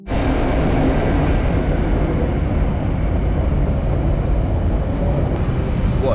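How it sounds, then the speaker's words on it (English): A freight train rumbles past nearby as a loud, steady roar with a broad, even texture that holds unchanged from start to finish, with no talking over it. "Behind us, we've got a serious freight train."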